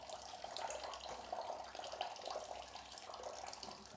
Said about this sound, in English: we take some water and we make sure everything is wet from the tip of the fingertips to the elbows